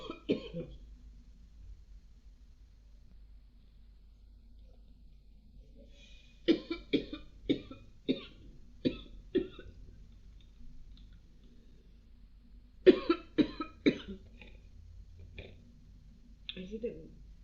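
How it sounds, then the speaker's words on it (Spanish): Repeated coughing and throat clearing from a lecturer during a law class, coming in short clustered bursts with pauses between them, close to the microphone in an otherwise quiet room. "Ahora me agarró tos."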